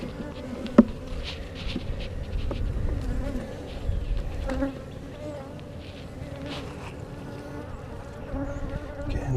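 Honey bees buzz steadily around an open hive during an inspection, a continuous close insect hum with a few brief clicks and light handling knocks from frames being moved.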